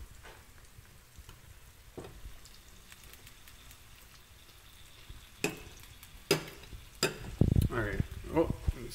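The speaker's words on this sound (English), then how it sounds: "You can hear the crackling already." Food fries in butter or margarine with a steady, close crackling sizzle, joined later by a few utensil knocks and a brief voice near the end.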